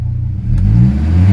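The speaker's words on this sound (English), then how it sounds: "accelerate to wide open throttle, release when fuel cutoff occurs" A car engine revved hard to wide open throttle, a loud close rising roar building from a low idle rumble and holding strong toward fuel cutoff.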